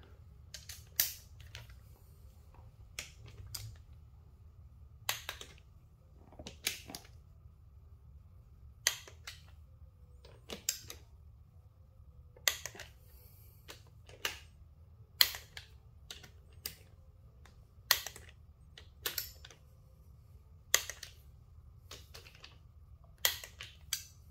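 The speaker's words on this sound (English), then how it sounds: "gonna hit it with this torque wrench real quick" A torque wrench tightens bolts on a KTM 390 Duke motorcycle during a shift kit install: sharp, quiet, isolated clicks at irregular intervals over a low background hum, with no talking.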